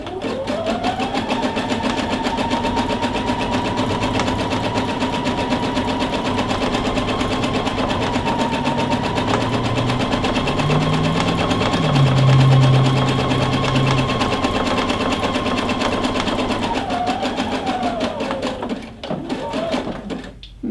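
A sewing machine runs a zig zag stitch along the edge of a fabric seam, a steady, loud whirring hum holding for most of the stretch before slowing and stopping near the end.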